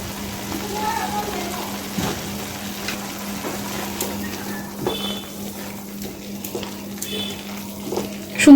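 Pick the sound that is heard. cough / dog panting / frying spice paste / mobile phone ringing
frying spice paste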